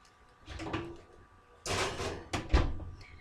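A kitchen oven door being opened and closed while chicken in an oven bag goes inside, heard as soft creaks and a rattling clunk followed by a firmer bump, close by and fairly quiet with no talking.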